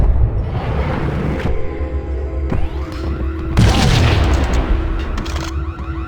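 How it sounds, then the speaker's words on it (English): A grenade goes off during a gunfight in Max Payne (2001): a couple of sharp gunshots, then a loud, close explosion with a rumbling tail under steady background noise. "A grenade."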